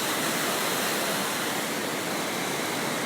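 Düden Waterfall pours in a loud, unbroken wash of rushing water, heard up close and steady throughout, with no talking.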